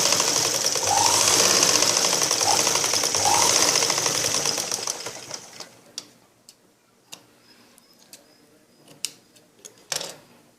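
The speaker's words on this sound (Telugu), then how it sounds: "ఇప్పుడు తాళ్ళు భాగం వేసే దగ్గర మధ్యలో నుంచి ఒక స్టిచ్చింగ్ చేసుకోవాలి." A sewing machine stitches a line on a blouse with a fast, steady whirring run that winds down and stops. Scattered light clicks and taps of handling follow.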